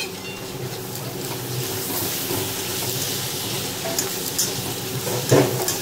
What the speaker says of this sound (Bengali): এখন মিক্স করে দেবো।